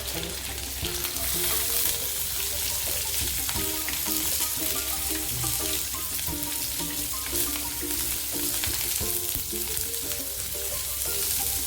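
Half an onion frying in oil in a pan for snake gourd poriyal and kootu: a steady, dense sizzle with light stirring, continuing evenly throughout with no talk.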